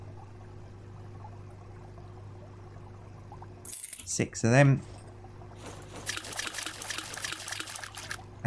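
Fish pour into an aquarium tank in the Aquarist video game, a brief splashing, trickling burst over a steady hum, with a voice speaking briefly before it.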